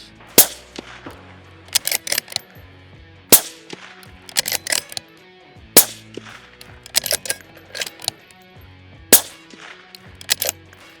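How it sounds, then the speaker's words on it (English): Five shots from a 6mm Dasher competition match rifle on an outdoor range, each a sharp loud crack followed by clattering echoes and metallic ringing, spaced a few seconds apart. "Five shots there."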